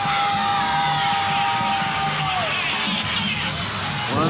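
A wrestling crowd at Herman's Hideaway in Denver roars and yells steadily, a dense wash of cheering with a sustained whistle or shout rising through it, loud and continuous.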